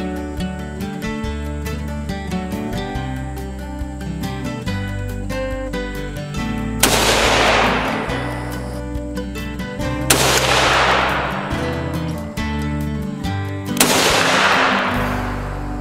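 Three rifle shots are fired at a target 40 yards away, each a sharp, loud crack spaced a few seconds apart over steady background music.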